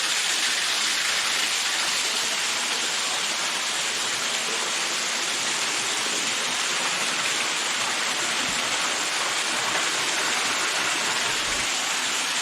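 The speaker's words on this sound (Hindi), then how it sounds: "ये पानी ऊपर से आना शुरू हो गया" Pumped water pours down steadily from above in a simulated rain demonstration inside a salt mosque, a loud, continuous rushing splash like heavy rainfall or a small waterfall, unbroken for the whole stretch.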